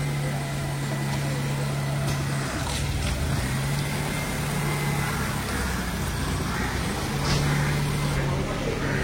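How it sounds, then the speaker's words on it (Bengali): A car drives along a road under an overcast sky, giving a steady, unbroken interior hum of engine and tyre noise with a low tonal drone that comes and goes. "সৌরভের এখন আমাদের এই গাড়িটা চালিয়ে চালিয়ে পুরো হাত সেট হয়ে গেছে।"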